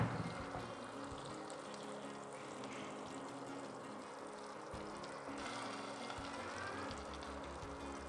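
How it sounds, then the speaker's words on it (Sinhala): Butter melting into hot caramelized sugar in a pan off the heat for butterscotch pudding, a steady close sizzle and fizz running throughout with faint stirring scrapes. "බටර් ටික ඕෆ් කරගත්ත ලිපේ අර සීනි වල රස්නෙට තමයි දැන් දිය වෙන්නේ."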